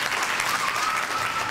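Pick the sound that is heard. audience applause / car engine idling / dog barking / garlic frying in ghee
audience applause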